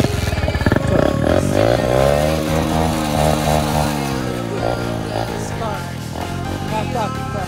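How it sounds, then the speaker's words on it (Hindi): A motorcycle on a group Sunday ride is started and revved up close and loud. The engine's pitch climbs and falls in repeated sweeps before it settles into a throbbing idle. "बाइक का साउंड सुनाते स्टार्ट दे साउंड सुनाते एक बार"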